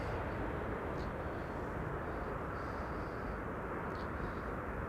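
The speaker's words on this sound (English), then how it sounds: "SAS arriving for Copenhagen, flight" An SAS passenger airliner arriving at Amsterdam Schiphol, heard as a faint, steady, distant broadband roar that holds constant throughout.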